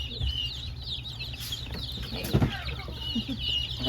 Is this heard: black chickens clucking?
yes